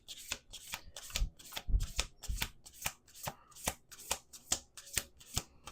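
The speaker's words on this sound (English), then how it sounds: "Let's do 2 more shuffles." A deck of tarot cards riffled and bridged repeatedly, a steady run of crisp, close flutters with soft thumps between them, no talking.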